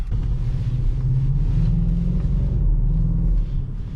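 A remapped BMW X5 E53 4.4i 286 hp V8 with 4.6 IS cams and intake accelerates around 3,000 rpm, a loud, continuous deep engine drone that holds steady and swells slightly as it pulls.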